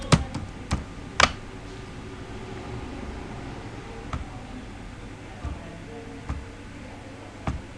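Keys tapped on a computer keyboard while a Linux terminal command is typed, a quick cluster of sharp clicks at the start followed by sparse single taps over a quiet background hiss.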